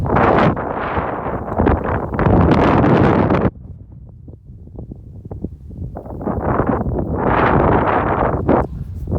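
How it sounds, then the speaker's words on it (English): Strong crosswind roaring over a microphone while riding on a highway out of Richfield, Utah, heading toward Nevada at speed; loud buffeting gusts rise and fall, easing briefly in the middle before surging back, with no talking. "The wind coming across this highway is the worst I've ever ridden in."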